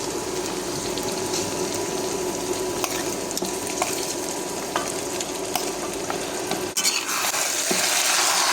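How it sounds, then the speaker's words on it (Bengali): Pieces of mutton frying in a cooked spice paste for curry give a constant loud sizzle close by, with light stirring scrapes and a short knock before the frying swells louder, no voices. "আমি এখন মাংসগুলো ছেড়ে দেব।"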